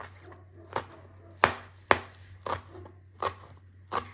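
A knife finely chopping a few stalks of green onion on a board, six or seven separate sharp cuts at an uneven pace, close and clear, over a low steady hum.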